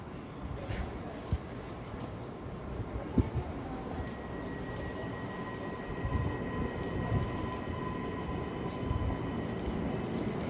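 A train rolls slowly through Łódź Widzew station with a low, continuous rumble and faint squeals and clicks, a steady mid-distance presence throughout.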